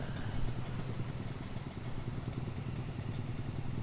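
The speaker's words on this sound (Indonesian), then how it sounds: "Motor legendaris 2 tak keluaran Honda." A 1997 Honda NSR two-stroke motorcycle engine runs with a rough, rapid clattering idle, steady and fairly close, with no talking over it.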